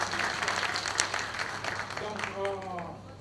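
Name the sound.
congress delegates applauding to approve a nomination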